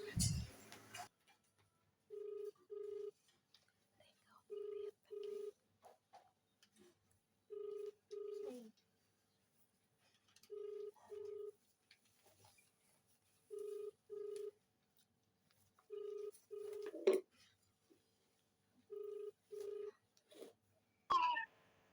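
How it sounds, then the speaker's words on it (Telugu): An outgoing phone call goes unanswered, with evenly spaced pairs of ringback tones repeating again and again over near silence, followed by a short burst of sound at the end. "రింగ్ అవుతుంది కానీ ఎత్తట్లేదు"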